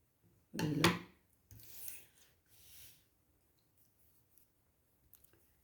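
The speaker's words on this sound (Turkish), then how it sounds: "bu fazla ipimi de keseyim" Scissors snip excess thread during Turkish needle lace work, one sharp close cut followed by a couple of softer rubbing snips, then near silence.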